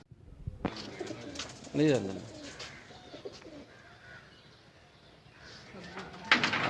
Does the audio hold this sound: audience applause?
no